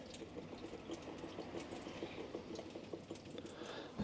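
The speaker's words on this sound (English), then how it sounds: "let me give them some water." Water poured onto potted plants, including newly gifted snake and empress plants, as a steady soft splashing and trickling stream that runs continuously at close range without talk.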